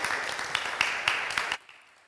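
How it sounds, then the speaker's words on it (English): Audience applause following a talk at a symposium, a short burst of clapping from a crowd that cuts off abruptly after about a second and a half. "please, one more round of applause for Salted"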